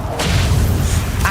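A Crucio spell cast in the game Hogwarts Legacy lands as a loud, dense low boom and rumbling burst that holds for about a second, close and heavy, with no talk over it.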